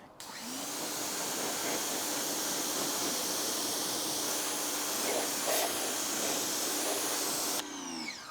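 Pressure water spray rinsing a car's painted surface, a loud steady hiss running nearly unbroken for several seconds before cutting off, close by.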